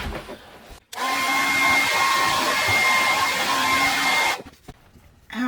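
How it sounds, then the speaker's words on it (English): A hair dryer switches on abruptly and blows with a loud, steady whine and rushing air for about three and a half seconds before cutting off, leaving quieter background noise. "Okay, I'm going to get a hair dryer."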